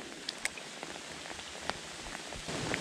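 Heavy rain pours steadily at a fishing spot, a dense even hiss of drops with a few sharper splashes and taps standing out, growing slightly louder toward the end.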